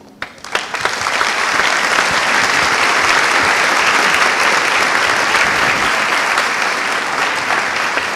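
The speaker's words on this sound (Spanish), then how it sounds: "Ponga fuerte el aplauso para el doctor Mockus" Sustained audience applause at a lecture on education in Colombia, a dense, loud wash of clapping that swells in within the first second and holds steady to the end without talk.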